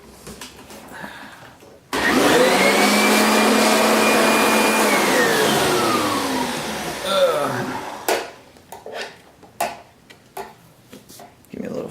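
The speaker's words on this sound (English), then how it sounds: "It's always nice to have the vacuum cleaner handy." A vacuum cleaner roars to life, runs steadily at close range for several seconds with a whining pitch, then winds down and shuts off, followed by light clatter.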